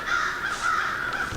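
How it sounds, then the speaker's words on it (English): Several crows caw loudly and continuously in a pine forest, their harsh calls close and overlapping without pause, with no talking. "Bunch of crows."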